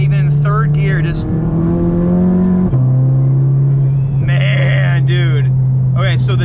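A Volkswagen's turbo car engine drones loudly inside the cabin, broken by short, sharp hissing bursts from a turbo blow-off valve.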